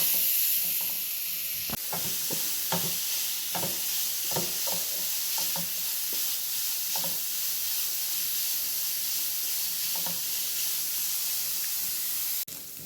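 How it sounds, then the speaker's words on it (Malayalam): Grated carrot is stirred in a hot pan as it cooks for a sweet dish, with a soft continuous sizzle and irregular scraping taps from the spoon, close and clear with no talk. "ഈ കേരറ്റ് വിളയുന്നത് വരെ ഇളക്കി ഇളക്കി കൊടുക്കണം"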